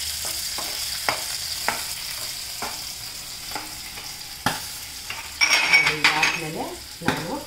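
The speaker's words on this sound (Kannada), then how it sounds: "ನೋಡಿ, ಬಿಸಿಯಾಗ್ತಿರೋವಾಗಲೇ ನಾನು ಈರುಳ್ಳಿ ಹಾಕ್ತಾ ಇದ್ದೀನಿ." Onions hitting a hot pan for an eggplant chutney, a soft sizzle under repeated sharp clicks and scrapes of a spoon against the pan, with a louder burst of frying and stirring near the end.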